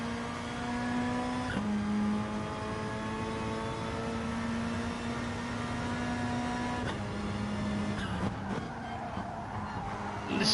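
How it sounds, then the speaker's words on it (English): In a racing video game at Brands Hatch, a high, sustained tyre squeal from a GR3 car whines over a steady engine drone, shifting pitch a few times as the car slides through a corner. "Listen to those tyres squealing."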